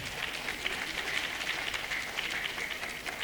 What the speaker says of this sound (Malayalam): അപ്പം ഒരു കയ്യടി ഇപ്പോൾ തന്നെ തന്നാൽ നന്നായിരുന്നു.